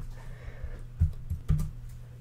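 A few quick computer keyboard key presses while typing code for a Unity 2018 2D RPG, close and clear clicks in a short irregular cluster over a quiet background.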